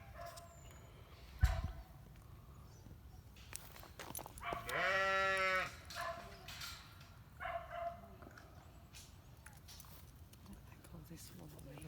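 A sheep lets out one drawn-out, quavering bleat in the middle, fairly clear against a quiet outdoor background with scattered knocks and faint shuffling.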